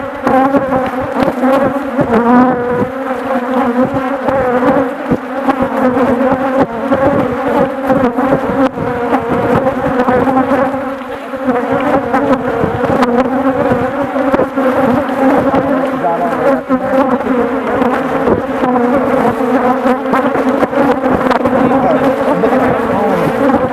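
Honeybees in treatment-free, small-cell beehives in an apiary yard, a loud, continuous close-up buzzing hum that drones steadily without pause, with people talking faintly in the background.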